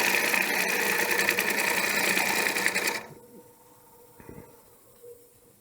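A wood lathe spins a platter while a 1/2 inch gouge cuts from the rim toward the center. A loud, steady rasping cut runs for about three seconds and then stops, leaving quiet lathe hum and a few faint knocks.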